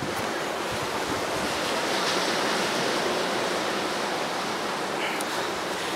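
Ocean waves breaking on the shore of Xiaoliuqiu island in Taiwan, a loud continuous roar of surf mixed with wind noise on the microphone, no voices.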